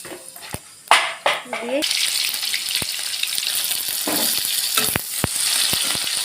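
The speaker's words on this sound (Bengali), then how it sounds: "কড়ার মধ্যে তেল দিলাম পরিমাণ মতন, মধ্যে জিরে দিয়ে দিলাম" Cumin seeds frying in oil in a wok, a steady broadband sizzle that rises and holds throughout, with a few sharp clinks of a utensil against the pan and brief bursts of speech early on.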